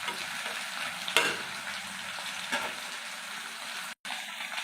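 Katla fish curry simmers in a pan with a soft, even frying hiss and a few faint pops, broken by a brief dropout near the end.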